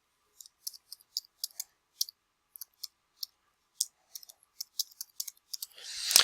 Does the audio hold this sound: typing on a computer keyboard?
yes